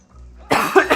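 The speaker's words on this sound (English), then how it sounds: "Now we're gonna start coughing because of this damn sickness" Sick units in a real-time strategy battle game cough in a short burst of two or three harsh coughs, loud and close, rising sharply from near silence.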